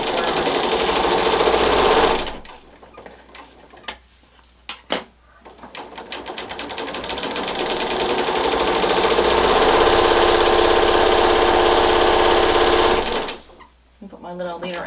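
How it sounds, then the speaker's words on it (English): Sewing machine stitching two fabric panels down both sides with a quarter-inch seam to form a tube; loud steady whirring runs for long stretches, with short pauses and stops between seams and a few brief sounds in the gaps. "So what I'm going to do is sew down both sides of this and make a tube."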